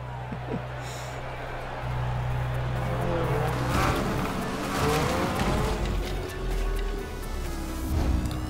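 A Lego Speed Champions Mini drives in Forza Horizon, its engine droning steadily with shifting pitch and brief tire noise as it accelerates, with a voice talking over it throughout.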